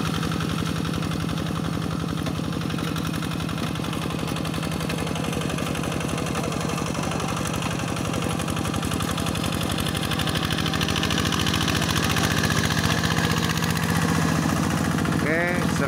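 A rice field tractor engine idles steadily and loudly throughout, a constant low mechanical chugging with no change in pace.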